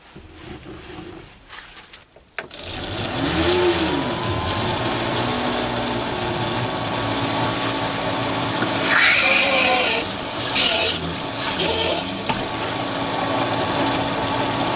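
A quarter inch BSP thread is die cut into brass, starting after a short quiet stretch and then a steady loud whirring and grinding with shifting pitch, a few scraping bursts breaking through.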